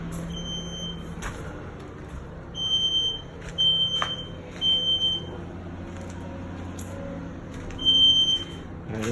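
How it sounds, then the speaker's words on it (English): Smoke or carbon monoxide detector beeping inside a fire-damaged house with warped, shattered windows; short high electronic chirps repeat in irregular bursts over a low background hum, moderately distant. "That's where the beeping's going. I'm assuming it's the carbon monoxide detector."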